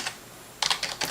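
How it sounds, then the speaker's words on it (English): Computer keyboard keys tapped in quick clusters while a SQL select statement is entered, a few soft clicks at first, then a busier burst of close, crisp keystrokes after a pause. "is type in a select statement underneath"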